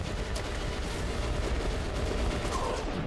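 Dense, continuous gunfire in Metro Last Light, a sustained loud barrage of overlapping shots with no pauses, filling the whole stretch without voices.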